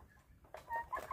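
Two young pet chickens kept at home give a couple of soft, brief clucks close by in a very quiet setting.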